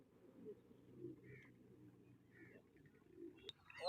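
Pigeons coo softly and repeatedly at a distance, their low rolling calls layered over a faint murmur, with a sharper bird chirp near the end.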